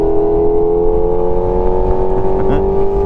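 QJ Motor SRK421 RR four-cylinder motorcycle engine revving under acceleration, a loud close steady drone with the engine note rising slowly.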